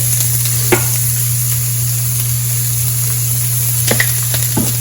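Celery stalk pieces fry with salt and black pepper, giving a steady, even sizzle throughout with a low constant hum beneath and a few faint clinks of stirring, no voices.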